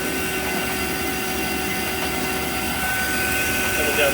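A vacuum pump evacuates a refrigeration system after a compressor change, giving a steady, loud, unbroken mechanical drone with fixed tonal whine that holds level throughout, no break or talking.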